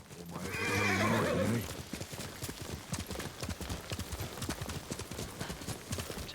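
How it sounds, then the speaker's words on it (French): A horse in the video game Ghost of Tsushima gives a loud, drawn-out neigh, then its hooves clip-clop in a steady, rapid trotting rhythm close by. "Il est où le cheval?"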